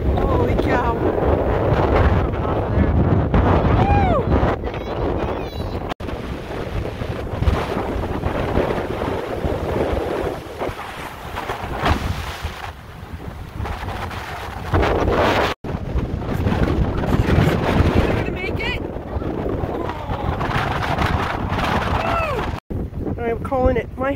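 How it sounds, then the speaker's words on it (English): Strong wind on a cold day buffets the microphone in loud, continuous gusts with a roaring, rushing texture, and people talk over it now and then. "Yeah, it's windy and cold."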